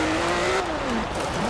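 Bugatti Chiron engine in the racing game Forza Horizon 4, a loud steady drone whose pitch slides down then climbs again as the car shifts and accelerates, with faint tire noise beneath.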